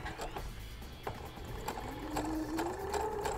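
Sewing machine fitted with a braiding foot stitching yarn onto fabric, a steady mechanical whir with rapid needle clatter running continuously and fairly close.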